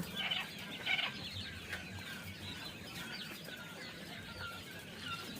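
Many European giant coturnix quail, 20 days old, chirp and cheep softly in a busy, continuous chorus, with a few louder calls near the start.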